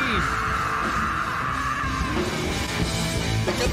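A loud, sustained yelled scream from a live rock band cover performance at a battle-of-the-bands event, held over dense distorted instruments for several seconds, with crowd and stage noise filling the mix throughout.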